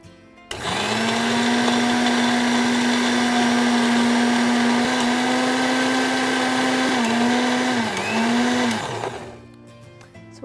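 A mixer grinder whirs loud and steady for about nine seconds, grinding huruli (horse gram) chutney with curry leaves, its pitch dipping briefly near the end before the motor cuts off.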